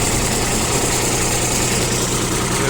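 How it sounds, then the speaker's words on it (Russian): Kubota L1 255 mini tractor with loader and rotary tiller, its engine running at a steady loud idle, a dense even drone with vibration throughout and no voices. "обзор мини-трактора Kubota L1 255 с куном и фрезой"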